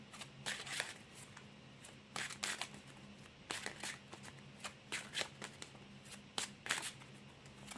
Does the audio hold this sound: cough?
no